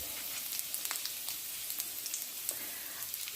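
Garlic and Scotch bonnet sizzle gently in hot oil in a pan, a faint steady frying hiss with small crackling pops, no voices.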